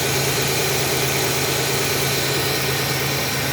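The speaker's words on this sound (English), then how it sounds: "this is the motor." A Z26 car's engine idles with a steady, loud low rumble and even vibration, close by and uninterrupted, with no voices.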